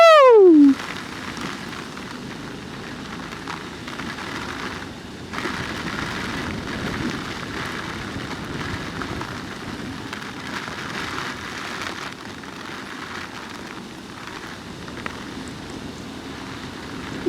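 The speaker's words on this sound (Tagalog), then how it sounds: "Lakas ng ulan, oh." Heavy rain pours steadily on a road trip from Tagaytay to Manila, a dense continuous hiss that stays loud throughout after a brief electronic chime at the start.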